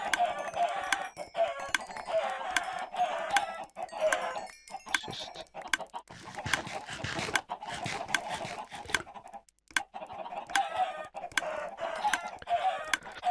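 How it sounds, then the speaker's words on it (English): Many chickens in the Minecraft video game clucking and squawking in a dense chorus, overlapping calls and clicks continuing throughout at a steady moderate level. "2 stacks chickens here, so enjoy"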